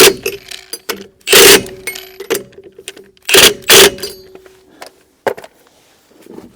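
Bolts on a Barracuda race car are lightly snugged with a hand tool, heard as close, loud bursts of ratcheting clicks separated by short pauses, with quieter metallic handling sounds between them.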